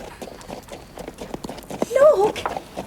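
Hooves of a black horse clip-clop in a steady walking rhythm, close and distinct, while voices talk over the footfalls.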